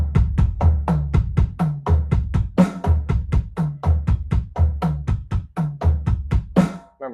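A steady drum groove with punchy kick and snare hits in a repeating pattern, ending in a quicker sixteenth-note fill and a crash, loud and close.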